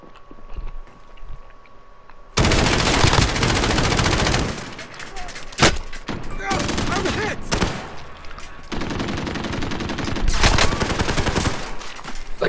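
Sustained automatic gunfire in Call of Duty: Modern Warfare: long, loud, dense bursts of rapid shots with short pauses and a few sharp single cracks, over game noise.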